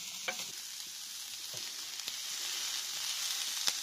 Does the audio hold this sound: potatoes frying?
yes